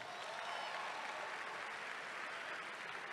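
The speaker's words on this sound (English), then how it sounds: "Let's give them another round of applause" An audience applauds a vocal ensemble after their performance at a school ceremony, a faint, steady wash of clapping throughout with no voices over it.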